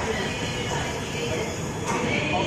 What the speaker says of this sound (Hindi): ये देखो नई दिल्ली राजेंद्र नगर पटना तेजस राजधानी एक्सप्रेस को लगाया जा रहा है।